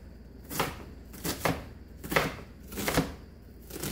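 A sharp knife slices through salmon fillets on a board, four evenly spaced chopping strokes landing about every three-quarters of a second, each a crisp thud with a brief scrape, close and clear with no talking.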